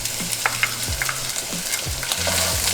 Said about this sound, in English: you're gonna just carefully add in your onion